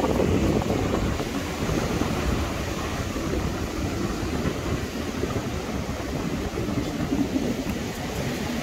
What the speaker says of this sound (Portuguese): o vento tá friozinho, gente